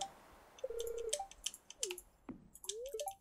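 Rapid mouse clicks while playing the modded Stardew Valley game, sharp close ticks scattered across the stretch among cheerful game blips and chimes, no talking.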